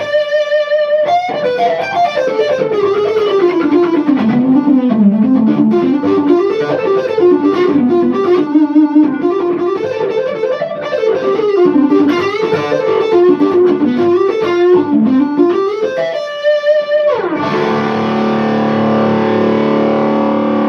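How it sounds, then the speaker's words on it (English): A distorted electric guitar plays a sustained, wandering melodic line with a thick, saturated tone, ending on a ringing chord left to decay. "Let's see what that sounds like with a little bit of distortion."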